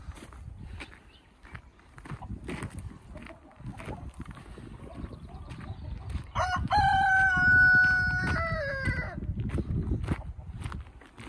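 In a chicken coop holding Australorp hens, a rooster lets out one loud, drawn-out crow partway through, amid scattered clucks and rustling nearby.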